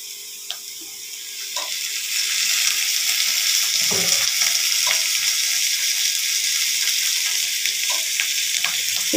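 Potatoes and onions frying in mustard oil in a pan, a steady bright sizzle that swells and holds with occasional stirring clicks and scrapes, close and continuous with no talk.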